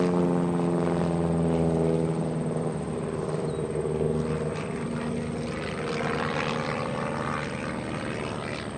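An aerobatic propeller airplane flown by Erik Edgren performs at a county airshow, its engine droning loudly and steadily with a rising and falling pitch as it rolls through a maneuver, heard alone without talk.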